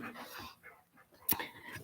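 A dog pants in quick breathy puffs close to the microphone, with soft whimpers and a brief sharp click partway through, lasting under two seconds.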